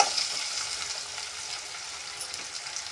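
Green chillies frying in oil in a pan for paniyaram, a steady close hiss of sizzling that starts slightly louder and settles into an even crackle.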